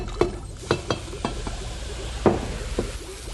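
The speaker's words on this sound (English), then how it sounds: "That fizzing is carbon dioxide gas coming off." Vinegar and baking soda fizzing in a pitcher as carbon dioxide bubbles off, a soft continuous hiss broken by several sharp clinks and taps, close by with no voices.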